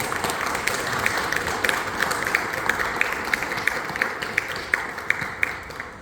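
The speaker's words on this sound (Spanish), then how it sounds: "Un gran aplauso para don Carlos Rendón Bejarano" An audience applauds author Carlos Rendón Bejarano at a book fair, a steady moderate clapping that holds for the whole six seconds at an even level, with sharper individual claps standing out above the crowd.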